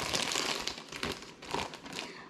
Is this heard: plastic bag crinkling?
yes